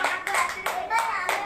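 Children at a Teachers Day class program clap loudly in four quick bursts of rhythmic hand claps, close and lively.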